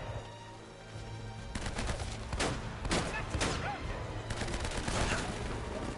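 Video game gunfire in a shootout with a sniper rifle among the weapons, bursts of sharp rapid shots and a few single cracks over a constant game background, fairly loud and close with no one speaking.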